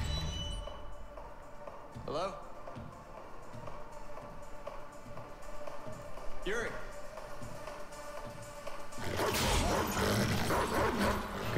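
Dog barking in the racing game Need for Speed The Run at Yuri's Garage in Cleveland: a few sharp yips and barks stand out over a steady game soundscape, with a loud burst of noise near the end.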